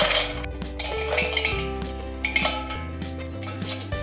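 Light metallic clinks and knocks as a metal cooking vessel is handled while chopped cabbage is added for cabbage pakoda, heard close under steady background music.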